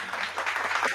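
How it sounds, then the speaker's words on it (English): Audience applause welcoming a guest on a talk show, a short burst of steady clapping at moderate distance, with no talk over it. "with a big round of applause, will you welcome our guest tonight"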